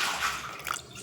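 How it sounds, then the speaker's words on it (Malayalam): Water trickles into a bowl of gram flour batter seasoned with turmeric, mixed for banana fritters; a soft, close splashing pour lasting about a second with no talk. "ഇനി വെള്ളം ഒഴിക്കേണ്ടി വരും."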